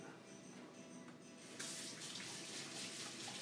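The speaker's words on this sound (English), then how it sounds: "I want to wash my hand because we got to go on the stove." A kitchen tap runs as hands are washed under it, a steady hiss of water that swells louder partway through when the stream is opened up or the hands move into it, close by with no talk.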